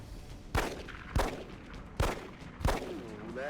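Four pistol shots from the video game XCOM Enemy Within, each a sharp loud crack with a short ringing tail, evenly spaced roughly half a second apart over quiet background.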